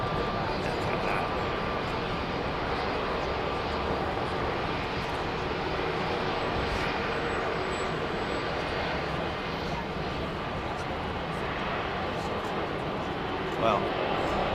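An Airbus A350 airliner in China livery moves at Heathrow Airport with a continuous broad jet engine rumble, steady and fairly distant, and a faint tick near the end.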